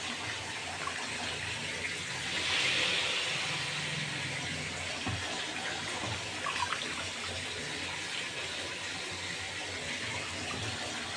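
Tap water runs steadily into a kitchen sink while greens are washed, a continuous close rush with a slight surge early on and faint clatter, no voices.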